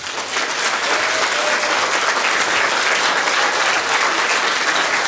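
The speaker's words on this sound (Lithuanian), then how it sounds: "Aplodismentai Rungai." An audience bursts into sustained, dense applause for an anniversary concert, loud and steady for several seconds with no pause.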